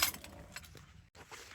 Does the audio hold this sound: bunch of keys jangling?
yes